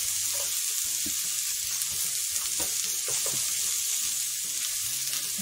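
Potato pieces fry in hot ghee for a vegetable biryani, making a steady, close, bright sizzle throughout with faint stirring scrapes and no talk.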